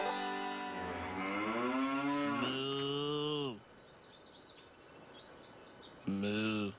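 A cow moos long and loud in a margarine advertisement, a deep drawn-out call that breaks off, then a brief quieter stretch with faint bird chirps before a second moo starts.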